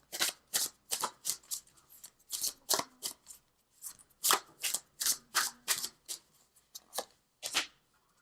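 A Mother Wisdom oracle card deck is shuffled by hand in quick, crisp riffling bursts, repeated steadily about twice a second with short gaps, close and fairly quiet with no talking.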